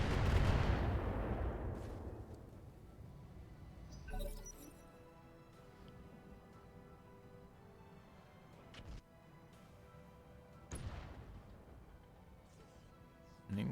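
Artillery in Battletech with the Roguetech mod, opening on a heavy booming blast that rumbles away, then a few sharper distant impacts and metallic clinks over a low continuous battle rumble.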